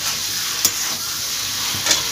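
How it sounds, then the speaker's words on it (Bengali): Spices and masala for a Bengali jackfruit and prawn curry sizzle steadily as they sauté in a hot pan, with two brief scrapes of stirring cutting through the constant frying hiss. "যতক্ষণ না মশলা থেকে তেল ছাড়বে ততক্ষণ এটা কষিয়ে যেতে হবে।"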